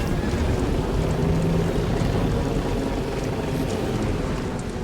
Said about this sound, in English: It's got like a nice engine sound.